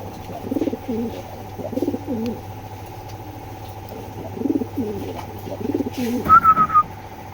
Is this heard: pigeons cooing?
yes